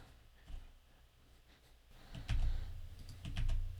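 Typing a command on a computer keyboard in a quiet room, with soft scattered keystrokes first, then a denser, louder run of key presses and a final burst.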